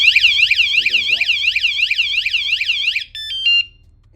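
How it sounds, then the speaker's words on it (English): An electric bike alarm system on an EB5 blares a loud, close warbling siren that rises and falls rapidly, then switches to a short series of electronic beeps before stopping. "This alarm system is loud, it's obnoxious."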